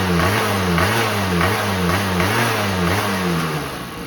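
A Honda Spree NC50 scooter engine, with carburetor trouble, runs loud and close, its pitch rising and falling in a steady wavering rev cycle before easing slightly at the end, with no one talking.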